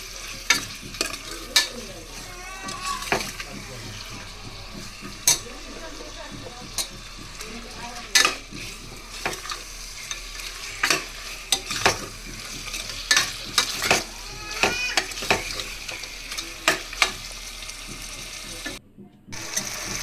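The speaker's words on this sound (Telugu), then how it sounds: "ఆయిల్ అంతా బాగా మసాలా చికెన్ సపరేట్ అయ్యేంత వరకు బాగా వేయించుకోవాలని" Masala chicken fries in oil in a home kitchen, a low sizzle broken by repeated scraping and clanking strokes of a spoon against the pan, irregular and close, with no one speaking.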